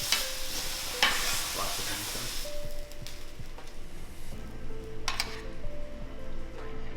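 Beef tenderloin for Beef Wellington seared briefly on each side in a hot pan, a loud, steady sizzle with occasional clinks and scrapes of the pan, close and without talking.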